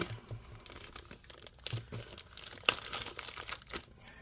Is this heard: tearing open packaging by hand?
yes